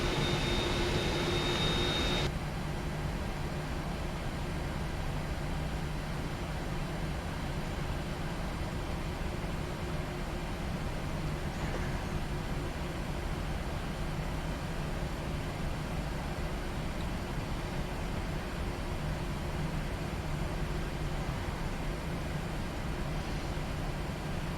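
A PMDG 737 NGXu jet taxis out in Prepar3D, its engines a steady, even whine and broadband rumble that holds constant, fairly quiet, with no voices.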